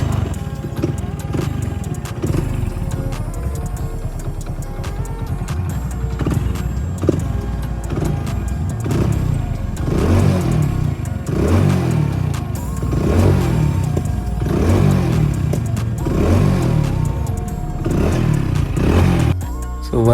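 A motorcycle engine runs steadily after a quick-throttle lock-type cable change, with a loud, close, throbbing idle and rhythmic pulses that rise slightly as the throttle is worked.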